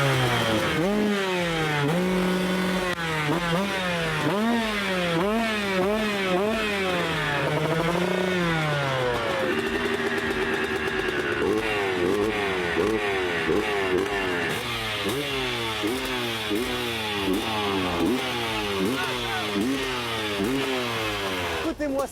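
A petrol motorcycle engine revving repeatedly, rising and falling in pitch, loud and close, with a steady rumbling idle between the revs.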